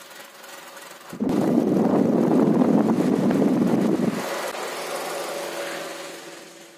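An electric fan powered through a power inverter from a 12-volt car battery runs at full speed, a loud steady whirring hum that starts abruptly after a second and then eases to a softer drone.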